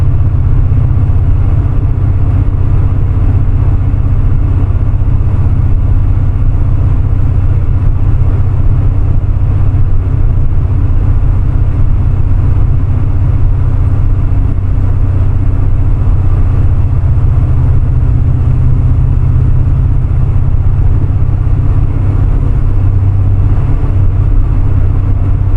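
A C4 Corvette with a Crossfire engine cruising on the road in fifth gear near 1,000 RPM, a steady low engine drone with road and wind rumble inside the car, loud and unbroken, with no talk.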